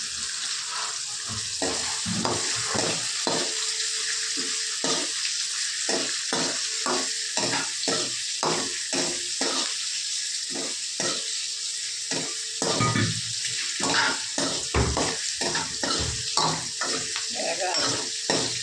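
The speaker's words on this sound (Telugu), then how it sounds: "బాగా వేయించుతుంది దూరగా ఉప్మా రుచిగా రావడానికి." Semolina is dry-roasted for upma in a pan and stirred continuously, a constant close hiss with a brisk, steady rhythm of scraping spoon strokes throughout.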